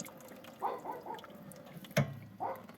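Rinse water runs inside a farm machine during a fill, wash and mix cycle, making soft splashing, trickling and dripping sounds with a few distinct gurgles and a brief knock, heard up close without talk.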